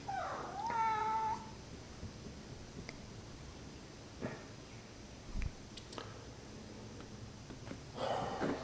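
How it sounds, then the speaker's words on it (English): A cat gives one clear, close meow at the start, followed by quiet indoor room sound with a few faint knocks and rustles, then a short scrape near the end. "you scared the shit out of me, little kitty"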